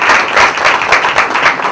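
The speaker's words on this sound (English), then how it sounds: "and let's clap" Audience clapping at a gathering of US and Indian leaders, a close, loud burst of many hands with distinct individual claps standing out over the brief stretch.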